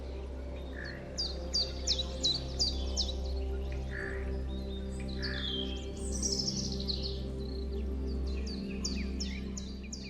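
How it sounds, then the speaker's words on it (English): Robins singing in a spring setting of blossoming trees and green lawns, repeated bright chirping phrases and warbles rising over a steady low hum, fairly close and continuous throughout. "Robins."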